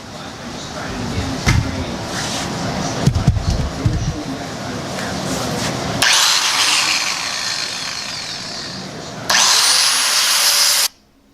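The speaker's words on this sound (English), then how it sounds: "it'll be easier to cut them with the smaller wheel" A small cut-off wheel slices through short metal pieces in a hot rod shop, starting with handling clatter and knocks, then breaking into a loud, bright, sustained grinding hiss in two bursts before stopping abruptly.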